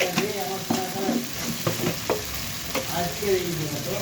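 Food frying in a pan with turmeric just added, steady sizzling under repeated spatula scrapes and stirring strokes, close and moderately loud with some faint background voice.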